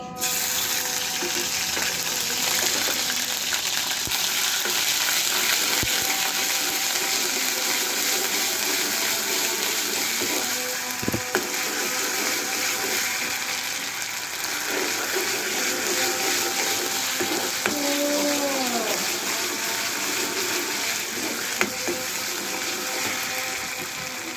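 Ginger garlic paste frying in a pan, a steady loud hiss and sizzle that runs throughout, with occasional small clinks and pops near the mic.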